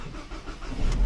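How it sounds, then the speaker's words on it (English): A car engine cranks and catches after the ignition is turned with a freshly cut and programmed key, a low turning rumble that swells into a louder start at the end of the short moment. "And the car starts? Yes."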